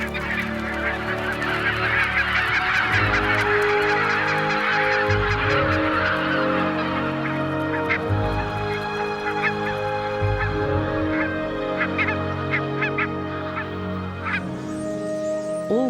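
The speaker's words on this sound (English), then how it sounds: "the migrating birds' departure, and their neighbors, the grey geese" A large flock of greylag geese honks loudly and continuously, many overlapping calls close by, with no talking.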